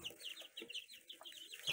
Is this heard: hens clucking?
yes